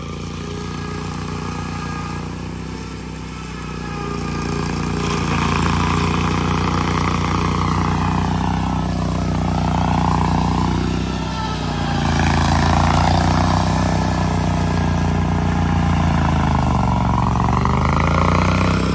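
An Altoz zero-turn mower engine runs at steady load while mulching grass, droning loud and continuous with slight rises and dips in pitch over about nineteen seconds, the motor barely bogging as the deck chews through the cut.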